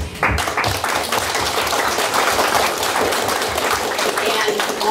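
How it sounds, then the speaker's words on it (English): Audience applause at a community event in Mississauga, a steady wash of many hands clapping at moderate volume, sustained and fairly even for several seconds. "So just a big round of applause on that."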